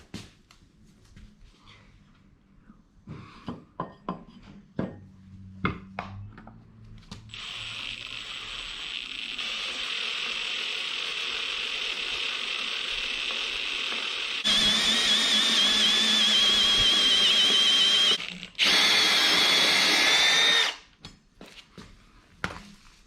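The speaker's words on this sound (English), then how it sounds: "we're gonna finish with the larger 5/16 bit" A power drill with a larger 5/16 bit bores through a hole for a DIY awning hinge template, a sustained high whining drone that runs steadily for several seconds, stops briefly, then resumes before cutting off, with no talk.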